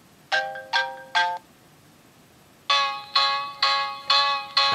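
A custom ringtone plays on an iPhone 3G: two bursts of bright, chiming tonal notes, first three quick rings, a pause, then five louder repeating rings, close and clear with no talk.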